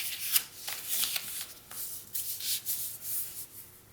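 Paper is folded and creased by hand for a holiday ornament, making close, soft rustling and rubbing strokes in quick irregular bursts.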